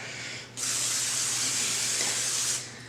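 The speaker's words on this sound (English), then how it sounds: "I'm using just this olive oil cooking spray." A close, steady hiss of an olive oil aerosol cooking spray, one continuous burst of about two seconds that starts and stops abruptly.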